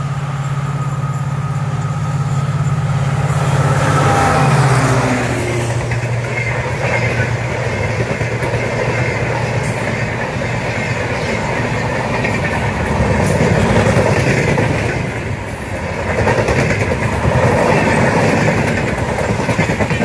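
A train rumbles past nearby, a loud steady roar of wheels and carriages that swells and fades over about twenty seconds, with no talking.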